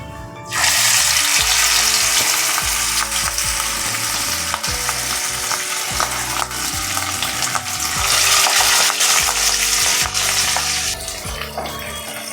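Rui fish pieces sliding one by one into hot mustard oil, setting off a loud, continuous crackling sizzle that stays dense and close throughout, with occasional clinks and stirring sounds, no talking.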